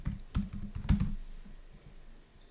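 Typing on a computer keyboard, with a quick cluster of close key clicks followed by a couple of firmer keystrokes that trail off into quiet.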